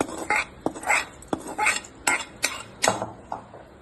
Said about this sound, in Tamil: இப்போ இதை தாளிப்பு அதில் போடலாம்